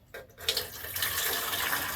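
Film-developing rinse chemical poured into a bottle: a brief clunk, then a steady splashing, gurgling trickle of liquid filling the container, close by and with no talking.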